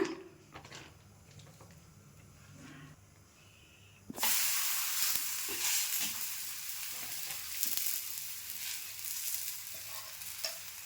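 Basale leaf talipatti flatbread laid onto a hot pan, a sudden loud sizzle that bursts in and keeps hissing steadily, with small crackles and stirring scrapes and quiet kitchen clatter before it.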